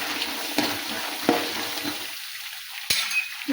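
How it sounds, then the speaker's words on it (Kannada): Garlic frying in a pan for avalakki chooda (flattened rice snack), a soft steady sizzle broken by a few sharp scrapes and taps of a spoon stirring against the pan. "ಈಗ ಬೆಳ್ಳುಳ್ಳಿ ಹಾಕ್ತೇವೆ ನೋಡ್ರಿ"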